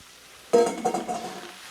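Mushrooms dropped into a frying pan of cooking onions for Hawaiian loco moco, a sudden burst of close, crackling sizzle after a quiet moment, then a steady hiss that fades slightly.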